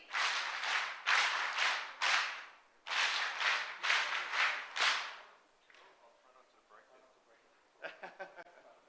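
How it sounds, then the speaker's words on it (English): A crowd at a women's federation launch gives a power clap: a series of loud, sharp, unison claps in quick bursts, followed by quieter scattered sounds near the end. "need a power clap as we hand over these items?"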